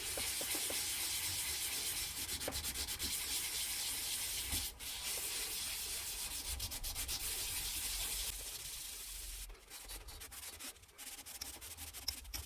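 Yorkshire Grit abrasive polishes a spinning wood-turned lidded box, a steady close hiss of rubbing that continues without a break and thins slightly near the end.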